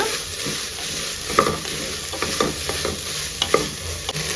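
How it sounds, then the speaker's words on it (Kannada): Chopped broad beans (chikkadikaayi) roast in a pan with a steady close sizzle, broken by a few sharp stirring clicks and scrapes, no voices. "ಇವಾಗ ನಾವು ಇದಕ್ಕೆ ಕಟ್ ಮಾಡಿರೋಂಥ ಚಿಕ್ಕಡಿಕಾಯಿ ಸೇರಿಸ್ಕೊಳ್ತಾ ಇದ್ದೀವಿ. ಇದು ಒಂದು 2 ಮಿನಿಟ್ಸ್ ರೋಸ್ಟ್ ಆಗಲಿ."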